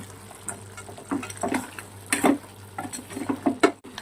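Mutton and cucumber curry is stirred in a pot with soft wet scrapes and light spoon taps, uneven and close, over a faint low hum.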